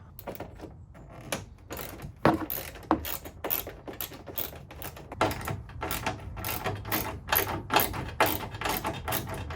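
Repeated ratchet clicks come from a hand wrench undoing the small 8 mm bolts holding the tail light on a Nissan 370Z, sounding as quick bursts of close, crisp clicking with no talk.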